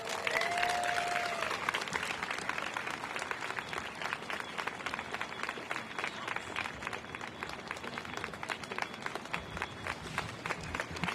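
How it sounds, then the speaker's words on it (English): A crowd at an event celebrating the start of the Franklin School renovations claps steadily and evenly, dense applause sustained throughout at a moderate distance. "Let's give Anaya another round of applause."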